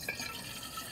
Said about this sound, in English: I'm gonna refill the water